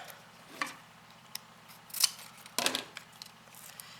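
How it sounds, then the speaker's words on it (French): Scissors cut through a self-adhesive label for a recycled napkin ring, giving a few crisp, close snips spread over a few seconds against a quiet background. "Comme c'est autocollant, je vais couper juste une partie."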